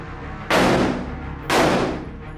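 Two sharp, loud blasts about a second apart, each decaying into a rushing roar, as missiles are fired one after another from Lebanon toward Israel.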